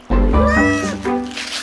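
A giant cartoon cat in a Malay-language children's animated series lets out a loud, close, drawn-out meow that wavers in pitch, with a second shorter cry following, heard alone.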